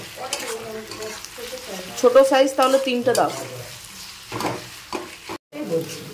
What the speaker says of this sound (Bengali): তো আদা রসুনের পেস্টটা ভাজা হয়ে গেছে।